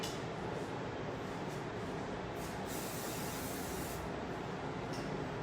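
Hair spray misted steadily during a hairstyling demonstration, a continuous even hiss lasting several seconds with no talk over it.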